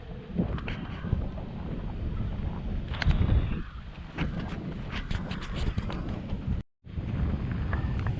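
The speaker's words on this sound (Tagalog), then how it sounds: "sarap ng hangin o" Strong wind at Little Beach in Pamplona, General Nakar, Quezon buffets the microphone in a continuous, loud, rough roar with gusty swells and a brief dropout.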